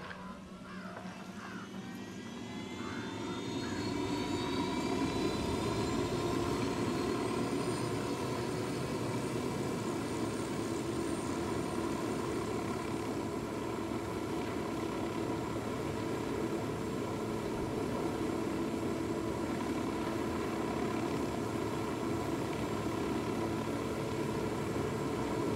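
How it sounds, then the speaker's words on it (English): Helicopter flying in Ghost Recon Wildlands, a steady droning rotor and engine roar that swells up after a few seconds and holds, with whining engine tones, no talk. "I'm flying my chopper"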